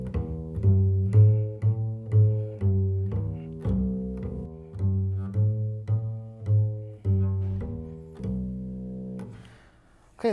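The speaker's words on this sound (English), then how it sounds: "Another style of playing bass in bluegrass is also called walking bass." Bluegrass-style walking bass on an upright bass, a continuous line of plucked notes stepping through changing pitches in a steady rhythm, close and alone, ending on a final ringing note.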